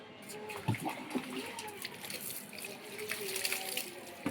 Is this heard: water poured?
yes